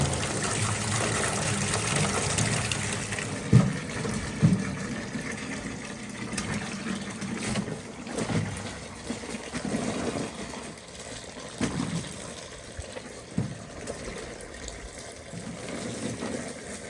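Hot tap water running steadily into a pot of frozen tomatoes for thawing, a continuous close gushing fill with a few knocks and clatters, no talking.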